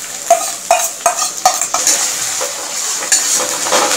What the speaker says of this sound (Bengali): এবারে রসুন আর লঙ্কা ভালো করে আমি নাড়াচাড়া করে নেব